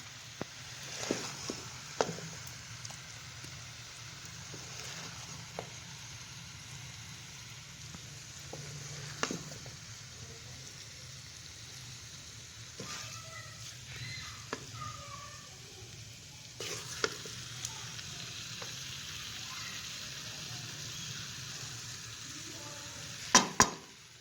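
Mixed vegetable sabzi being stirred in a pan and dished out, with a steady low sizzle beneath scattered clinks and scrapes of a spoon against metal, fairly quiet and without talk.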